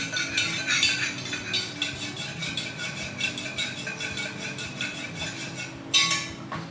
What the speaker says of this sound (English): we're just going to give that a little stir just to combine that all together